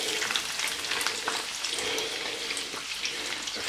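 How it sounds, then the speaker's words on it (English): Onions and garlic sizzle in a medium-sized frying pan, a dense, steady crackling hiss that stays loud and close throughout. "it's time to bung in the onions and the garlic"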